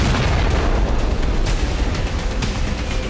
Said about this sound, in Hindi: इजराइल के बदले वाले एक्शन की वजह से अल हुदैदा बंदरगाह में कई धमाके हुए